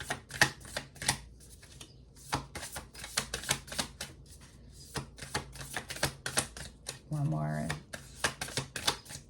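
Tarot cards being shuffled in quick riffling bursts, crisp papery snaps repeating in steady rhythm, with a brief murmured voice partway through.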